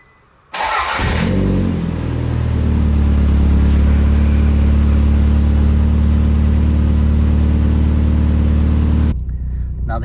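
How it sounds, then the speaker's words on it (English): A Toyota Celica GT-Four with a turbocharged engine cold-starts on a chilly day: a brief crank catches into a loud, close, rumbling high idle that holds steady for several seconds before abruptly cutting off. "It's still a little cold outside, so it's going to be a cold start, but it's a perfect opportunity to get some audio from a cold start."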